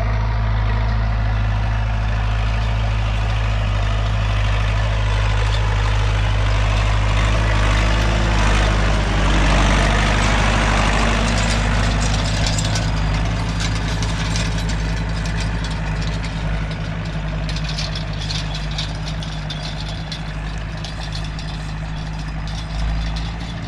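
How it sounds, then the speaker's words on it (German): Tractor engine idling, heard from inside the cab of an MF 3080 or IHC 844 on a farm, a loud, steady low rumble with a constant drone that runs unbroken throughout. "filmen wir noch im Traktor"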